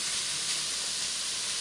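Curry frying in a pan, a continuous bright hiss and sizzle that stays steady and close for the whole short stretch, with no talking over it.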